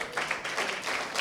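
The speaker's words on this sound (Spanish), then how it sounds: "Den un fuerte aplauso al Señor" A congregation in a church claps and applauds together, a brief burst of dense, moderately loud clapping with no speech.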